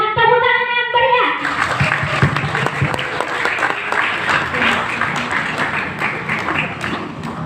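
Loud, dense applause from a seated audience welcomes the speakers at a 2022 talk show. The clapping swells right after a brief tonal intro and holds steady throughout, with faint crowd voices mixed in.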